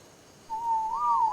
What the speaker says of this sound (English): Oh, he's making a whistling noise.